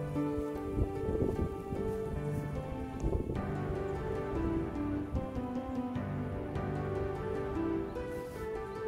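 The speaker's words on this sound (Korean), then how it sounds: "비님도 오시고." Steady rain falls outdoors in an apple orchard, a dense continuous patter of drops with occasional louder splashes and faint tonal sounds in the background.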